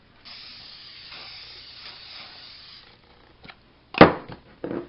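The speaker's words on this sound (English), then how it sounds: "spray the pan" A steady hiss of cooking spray onto a baking pan lasting a few seconds, followed by quieter clatter and a sharp knock of metal cookware nearby.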